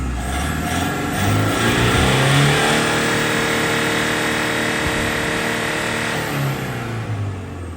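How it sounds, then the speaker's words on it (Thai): A 2013 Toyota Hilux Vigo Champ 2.5 diesel with a VN turbo revs hard and long, engine roar climbing and holding loud and close before easing back near the end, no talk over it. "มาเดี๋ยวผมเหยียบคันเร่งแรงๆให้ดูสักทีนึง"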